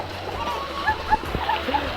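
People bathing in a village swimming pool send up scattered splashes over a steady wash of moving water, with voices talking nearby throughout.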